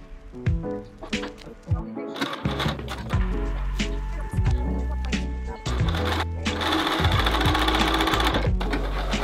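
A sewing machine stitching dress sleeves runs in loud, close bursts of rapid mechanical whirring with short pauses between seams, steady and rhythmic, with no one talking over it.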